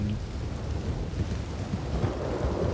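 Thunder rolls after lightning in the video game Red Dead Redemption 2. A steady, deep rumble blends with a rain-like hiss, continuous and fairly loud throughout, with no voices.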